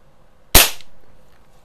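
A single sharp shot from a Crosman 2100 Classic .177 multi-pump air rifle, a loud snappy crack with a short fading tail against a quiet background.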